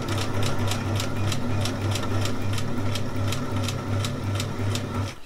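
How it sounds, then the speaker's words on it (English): A sewing machine stitches campervan fabric in a steady, loud, close mechanical chatter, its needle beating at a fast, even rhythm with a continuous motor hum beneath. "So hopefully with the sewing machine it should make it that little bit easier for me"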